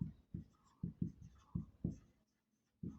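Pen writing on paper, a series of short, close scratchy strokes in an irregular rhythm with brief pauses between, quiet and without talk.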